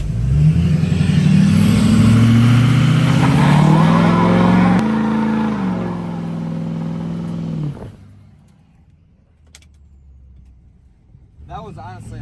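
A 6.0 Powerstroke diesel truck with a stick shift revs hard with a loud aftermarket exhaust, its roar climbing in pitch, then it cuts off abruptly into near quiet.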